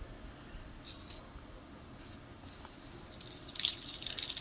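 Copper metallic spray paint hisses from a can onto an abstract painting in short bursts, close and fairly faint, with a longer louder spray near the end.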